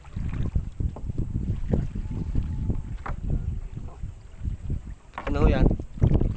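Strong wind buffets a small fishing boat out on the water at night during a catch of biya and banak fish. It comes as close, rumbling gusts, with people talking over it.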